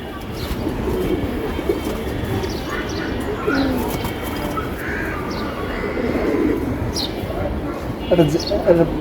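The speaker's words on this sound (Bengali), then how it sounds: "এটা হচ্ছে একটা নর কবুতর" A male pigeon coos in low, soft repeated calls amid steady outdoor background noise, with faint chirps and distant voices now and then.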